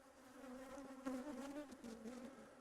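Honey bees at an apiary hive buzz in a close, steady drone with wavering pitch, fairly quiet and alone without talk.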